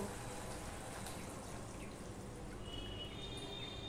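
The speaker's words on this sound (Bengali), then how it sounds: "এবার আমি পরিমাণ মতন জল দিয়ে দেব।" Water poured into a pan of vegetarian jackfruit kofta curry simmering with yogurt, a steady continuous splashing wash at moderate level, running alone throughout.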